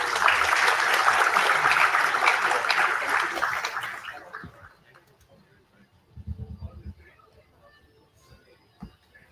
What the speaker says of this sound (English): Please, guys, a round of applause for them.